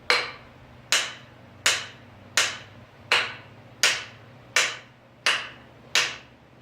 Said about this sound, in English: I'm just going to give it a few more whacks